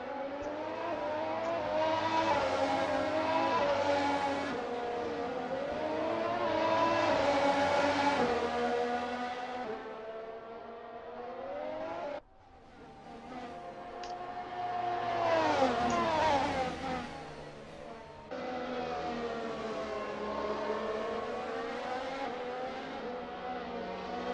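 Race cars circuit Silverstone in a sim racing game, with high-pitched engines revving up and down through gear changes as several cars pass in close succession, loud and continuous.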